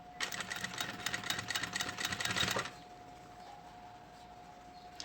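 A sewing machine stitches a synthetic-leather pencil case in a rapid, close burst of mechanical clatter lasting a couple of seconds, then stops, leaving a faint steady hum.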